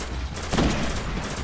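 Gunfire from an enemy fight in the Destiny beta, heard as a dense, steady burst of shots with one louder hit midway, close and continuous over roughly a second and a half with no talking.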